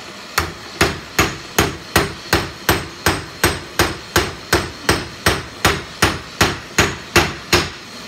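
A hammer strikes hot steel while a knife is forged, landing about twenty sharp, ringing blows at a steady, even rhythm, close and clear with no talking.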